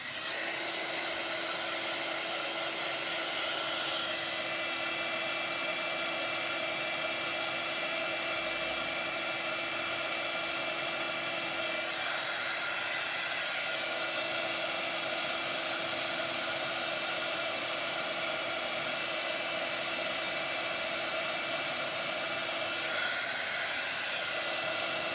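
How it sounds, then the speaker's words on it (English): Heat tool blowing hot air onto embossed stars on a handmade card, a steady, loud whirring rush that runs unbroken for the whole stretch with no voices. "I'm just going to quickly heat those stars up"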